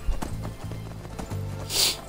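Rhythmic clip-clop of galloping horse hooves in a video game, in the Soul Cairn, steady and close, with a brief whooshing sound near the end.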